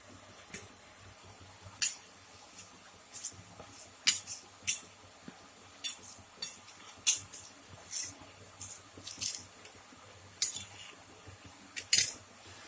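A small spoon clinks and scrapes in a little bowl while coriander and chilli powder are stirred with a splash of water, giving light, irregular metallic taps close by.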